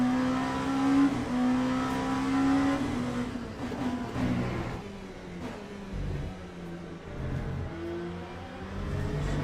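An LMP2 prototype race car engine in the Le Mans Ultimate racing game revs and shifts through gears, a loud whining tone rising and dropping over several upshifts and downshifts, with no one talking.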